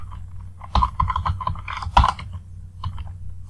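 Close-up computer keyboard typing code, with irregular bursts of key clicks, a few louder taps and brief pauses, and no speech over it.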